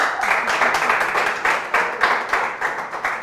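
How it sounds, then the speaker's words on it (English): A small studio group applauds during a quiz show, clapping in a rhythmic, slightly pulsing pattern at moderate loudness. "A round of applause"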